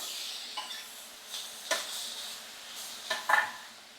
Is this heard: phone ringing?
no